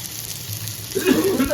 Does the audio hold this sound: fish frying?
yes